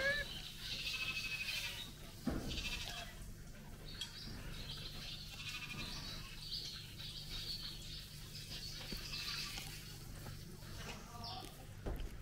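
Sheep bleat intermittently at a Swedish sheep farm, calls rising now and then over a steady outdoor hiss with faint bird and insect sounds, one sharp knock early on and a possible murmur of distant voices.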